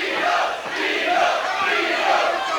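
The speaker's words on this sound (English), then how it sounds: "Now the crowd goes up for Vito" At a 1991 middleweight boxing bout, the arena crowd roars and shouts in support of Vito Gaudiosi, a dense, sustained cheer swelling and dipping briefly with no clear voice on top.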